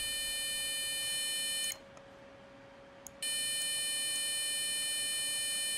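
Steady electronic test tone from a push-button frequency generator, a stack of pure sustained pitches that cuts out for about a second and a half, then resumes at full level, with no talk.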